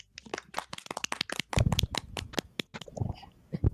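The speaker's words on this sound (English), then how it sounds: "Sayori finishes and we applaud." Applause in the Doki Doki Literature Club video game: a quick patter of many light claps, scattered and uneven over a few seconds, with no talking over it.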